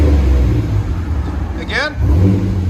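Chevy S10 with a 4.3L V6 and a Magnaflow Magnapack muffler with dual exhaust, its engine rumbling close by and rising in a brief rev near the end of a short stretch.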